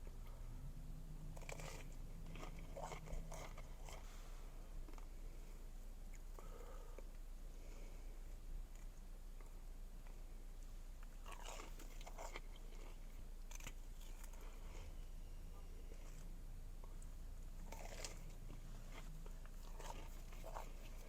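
Close, crunchy biting and chewing of cinnamon French toast sticks coated in cinnamon sugar, in bursts of crisp bites and soft mastication over a low steady background hum, with no talking.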